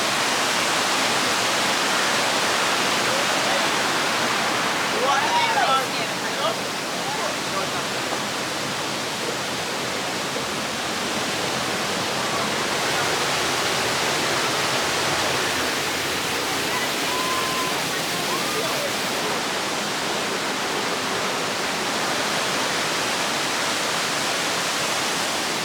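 A steady, roaring rush of falling water from a waterfall in Ocho Rios, Jamaica, fills the whole stretch, loud and constant, with faint voices briefly audible beneath it.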